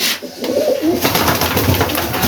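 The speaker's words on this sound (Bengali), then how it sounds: "আমাদের কবুতরগুলো দেখতে পাইতেছেন আপনারা" Black fantail pigeons coo softly nearby, a few low burbling calls over a short stretch with light background noise.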